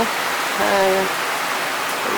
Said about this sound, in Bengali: আজকে অনেক বৃষ্টি হচ্ছে